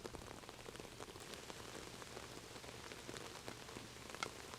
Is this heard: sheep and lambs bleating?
no